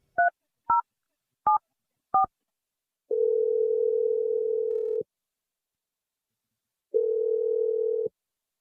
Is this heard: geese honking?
no